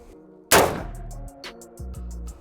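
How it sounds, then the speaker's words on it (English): A single loud AR-15 rifle shot fired in semi-auto mode cracks out sharply near the start, then trails off into echo and low mechanical rattling. "Ready to shoot, you pull the trigger."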